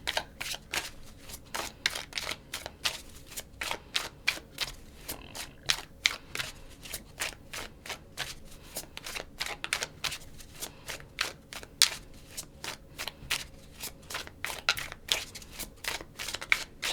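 A tarot deck is shuffled by hand close up, with a long run of quick, crisp riffling card flutters in a steady rhythm and no voices.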